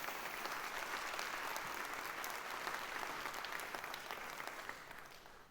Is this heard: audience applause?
yes